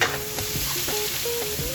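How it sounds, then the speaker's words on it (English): Onions hit the hot oil in a pot while japchae with mixed vegetables is being made, giving a brief, close burst of steady sizzling with a few light stirring clinks. "In the same pot that's hot, I want to add a little bit more oil, and then add our"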